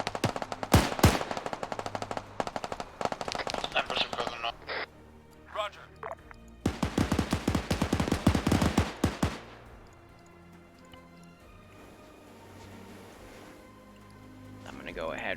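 Rapid bursts of automatic gunfire from a firefight in the video game Ghost Recon Advanced Warfighter 2, two loud rattling volleys separated by a pause, then a quieter stretch of low game ambience.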